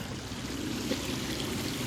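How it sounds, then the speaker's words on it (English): A stream or brook flows beneath a railway embankment near an old colliery line, giving a steady, soft outdoor trickle and wash with a low background rumble, continuous and fairly faint throughout, with no talking. "It's just to take this stream or brook, whatever you want to call it."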